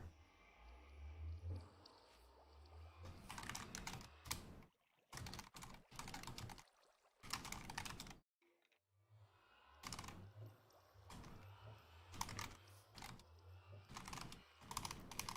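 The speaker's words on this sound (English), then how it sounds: "Oh, I'm not typing well at all today." Computer keyboard typing comes in bursts of rapid, dense clicking with brief pauses between runs. It is close and fairly loud, with no talking over it.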